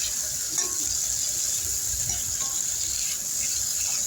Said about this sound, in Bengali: এবার ওই তেলের মধ্যেই আমি আলু আর বেগুনগুলো ভেজে নেব